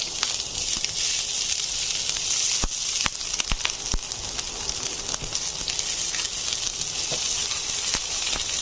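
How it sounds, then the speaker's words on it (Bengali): Onion hits hot oil in a pan for a cucumber and shrimp curry, giving a steady bright sizzle throughout with a few sharp ticks and pops, fairly close and with no talking. "আমি এবার পেঁয়াজটা দিয়ে দিচ্ছি।"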